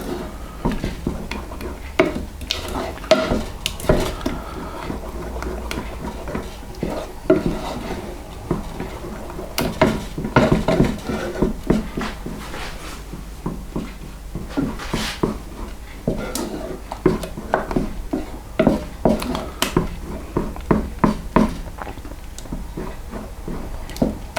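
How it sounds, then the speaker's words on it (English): A spoon stirring béchamel sauce with parmesan cheese in a pan, giving steady close scraping and light tapping against the pan bottom in an irregular rhythm, with occasional sharper knocks and no talking. "It's important that you keep this sauce stirred all the time so it doesn't catch on the bottom."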